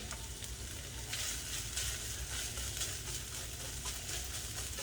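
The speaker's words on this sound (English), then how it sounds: "And we just give them a quick stir." Yellow bean sprouts stir-fried in a hot pan, a dense, steady hiss of sizzling oil with faint tossing and scraping layered in, close and continuous with no voices.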